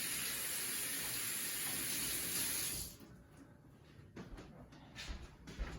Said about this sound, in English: Then rinse them off.